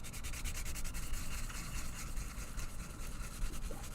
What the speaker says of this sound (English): I have a little scrubber here that I use to get into the insides.